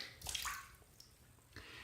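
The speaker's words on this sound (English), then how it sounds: "I'm just going to wring it out, shake it out a little bit" A wet Razor Rock shaving brush is wrung out and shaken, giving a faint, brief splash and trickle of water followed by a couple of soft drips, all close and quiet.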